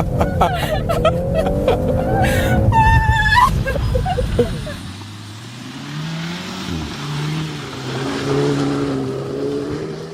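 Volkswagen Golf R, 8th generation 20th anniversary edition, drifting on a frozen ice lake: engine revving hard and high at first, then dropping to a lower steady drone as the car slides on.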